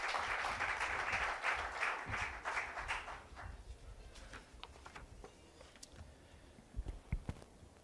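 Audience applause for a speaker at a defence and diplomacy session, a dense clapping wash at the start that thins out and fades into scattered claps and room noise.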